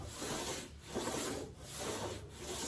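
Sandpaper rubs along the leading edge of a wooden wing in three or four even back-and-forth strokes, a soft, close, rasping scrape with brief pauses between passes.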